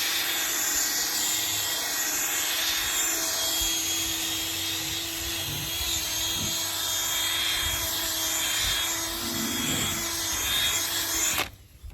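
A polisher with a pad buffs a BMW X5 headlight, running as a continuous, close, steady whirring hum with a faint rubbing texture throughout, then stopping abruptly near the end.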